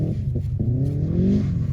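Subaru car engine revving nearby, a loud throaty rumble whose pitch climbs in a short rising rev before easing off, with no talking over it.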